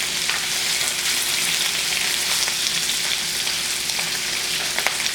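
Shrimp stew with a little oil frying in a Cuisinart 14-inch electric skillet, a steady, close, crackling sizzle with scattered pops and no talking.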